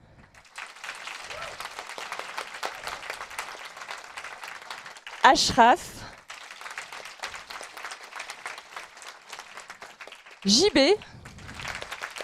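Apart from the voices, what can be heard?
audience applauding the round-table speakers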